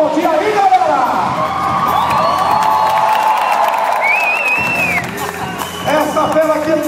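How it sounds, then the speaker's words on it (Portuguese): A crowd cheers and applauds at a Beto Carrero motorcycle stunt show, with loud mixed shouts, whistles and clapping that swell and continue, while an announcer talks over them. "vamos aplaudir aí, galera!"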